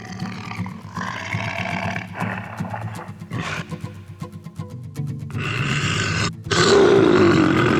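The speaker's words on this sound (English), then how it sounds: "The wolf is here!" An animated wolf from a children's story of pigs and houses of straw and sticks lets out a long series of loud, growling roars and grunts that build to a sustained, powerful roar at the end.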